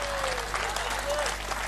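Audience at a Hindi comic poetry gathering claps in a dense, steady burst of applause while a voice speaks over it.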